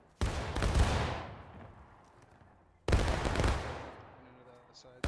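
Two loud musket volleys crash out in War of Rights, several seconds apart, each a sharp massed report that rolls away into a fading echo, with a third volley just starting at the end.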